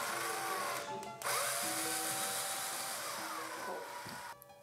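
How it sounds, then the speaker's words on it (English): A left-rotating power drill winds a coil onto a string end during fortepiano restoration work, a loud continuous high whine that runs almost throughout, with brief dips and pitch shifts as the drill starts and stops. "Using a left rotating drill, obviously a modern course of action, a coil is made on the string's end."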